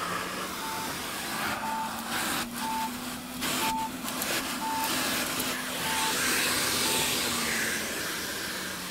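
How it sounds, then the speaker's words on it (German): The built-in vacuum cleaner of a Chrysler Pacifica Limited AWD minivan runs as a steady whining motor drone inside the cabin, with soft regular beeping tones and occasional clicks over the continuous suction noise. "Der hat seinen eigenen Staubsauger."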